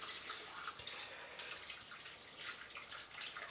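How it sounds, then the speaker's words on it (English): A pint of water is poured into a pan for plum jam, a faint, steady splashing pour that runs continuously for a few seconds with no voices. "We want to add a pint of water to that."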